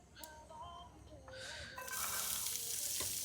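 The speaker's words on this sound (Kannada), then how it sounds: "ಒಂದೇ ಒಂಚೂರು ಸಾಸಿವೆ, ಇವಾಗ ಚಟಲ್ ಪಟಲ್ ಅಂತದೆ" Mustard seeds hit hot oil in a pan for rasam at a coffee estate campsite, breaking into a loud, steady sizzle after a quiet start with faint tonal sounds.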